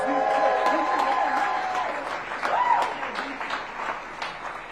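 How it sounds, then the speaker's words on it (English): Guests at a restaurant ribbon-cutting ceremony in Washington, D.C. applaud chef Kwame Ambuche, a steady patter of clapping that slowly tapers while people talk over it. "Give him a round of applause."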